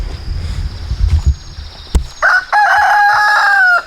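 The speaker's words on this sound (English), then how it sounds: "Fred's our new rooster" A rooster named Fred on a small backyard micro homestead crows loudly and close by, one long sustained call following a few brief clucks and rustling sounds.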